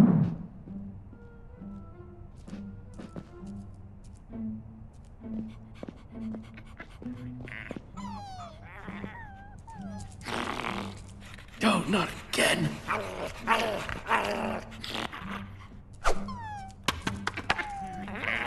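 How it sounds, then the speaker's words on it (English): Puppies in Minecraft Story Mode pant in quick, steady breaths close by, with a few sharp yips and scuffling movement mixed in as characters talk over them. "Oh, easy puppies."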